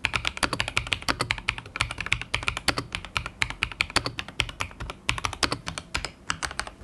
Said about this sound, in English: The tactile typing experience is excellent.